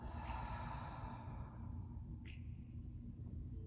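During a yoga abs and light flow session, a slow, soft exhale breathes out over a low steady rumble, quiet and close, with no talking.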